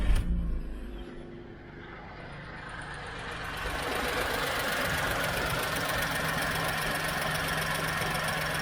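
A 2010 VW Polo three-cylinder engine with about 150,000 miles runs at a steady idle, its slightly uneven, offbeat pulse holding close and continuous after a brief louder start.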